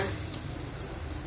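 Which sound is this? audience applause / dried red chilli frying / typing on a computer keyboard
dried red chilli frying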